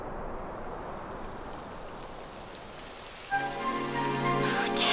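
Rain beginning in the Nintendo Switch role-playing game Dragon Quest XI S, a steady hiss of rainfall on surfaces, joined toward the end by a sustained musical tone rising over the downpour.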